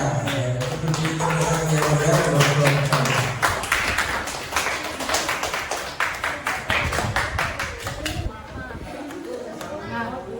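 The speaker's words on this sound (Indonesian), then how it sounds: "Beri tepuk tangan yang mulia." Pupils applaud in a classroom, a dense burst of hand claps that gradually thins into scattered, uneven claps and then stops, with children's voices and chatter mixed in.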